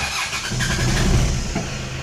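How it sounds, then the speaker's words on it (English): A car engine cranks and starts after cleaning of the oil pressure sending unit terminal, settling into a steady close idle rumble with no talk. "Okay, so let's start the engine."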